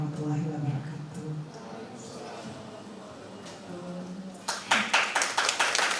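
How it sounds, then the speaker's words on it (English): A few people in a conference audience start clapping after a presentation, the sparse claps arriving near the end. Before that, a voice speaks over a quiet room. "big applause for Dr."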